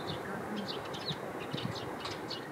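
Birds chirp softly in a quiet, remote mountain village, with faint, scattered tweets over a steady hush of background air.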